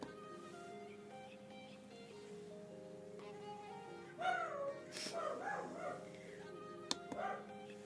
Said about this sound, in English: Barking at everyone.